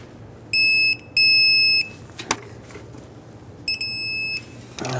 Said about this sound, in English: Now that they're bottomed out, let's torque them.